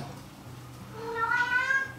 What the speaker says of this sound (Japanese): 猫がうるさいんですよ、すいません。